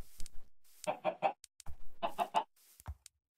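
Chickens in the video game Minecraft cluck in two quick bursts of three sharp clucks each, close and clear, with faint clicks and short scattered noises around them.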